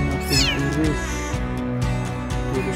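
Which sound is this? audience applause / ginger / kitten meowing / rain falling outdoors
kitten meowing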